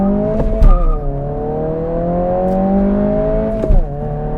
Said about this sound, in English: Expect a decent launch and good shifts to get you to 60 in about 7 seconds.